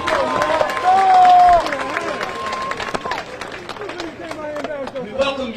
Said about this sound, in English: Let's get Grandmaster Jay another big round of applause.